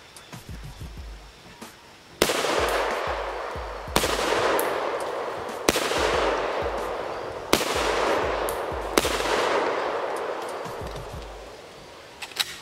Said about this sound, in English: we're gonna shoot a little bit more, put some more rounds down range